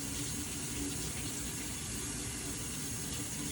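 Cold-smoked salmon lox is rinsed under running tap water, giving a steady, close, fairly loud gushing splash into a sink that continues unbroken for a few seconds.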